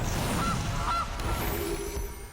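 Goose honking from the Honker card in the Magic: The Gathering video game, a few loud close honks in quick succession with no talk over them.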